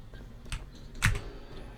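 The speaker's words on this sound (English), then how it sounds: "I was just clicking along with you." Keyboard clicks tapped along to the beat of the rhythm game bloodBath: two or three sharp, quiet keystrokes spaced apart against a soft, faint background.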